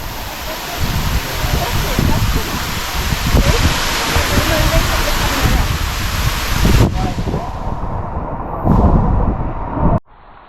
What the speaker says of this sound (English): we're under the waterfall